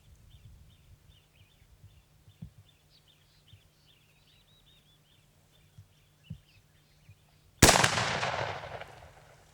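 A Davide Pedersoli smoothbore shotgun fires a single slug outdoors, one loud, sharp blast with a long rolling echo late in the clip, after quiet ambience with faint birdsong and a few soft knocks.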